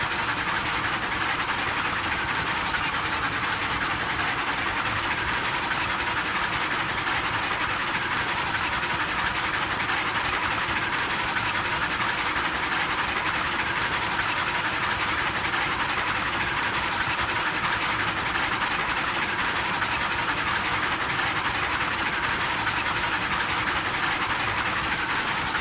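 Two train engines haul a load up a 2% grade in the Railroads Online video game, giving a continuous steady rumble of engine and rolling wheels, moderately loud and unchanging throughout, with no voices.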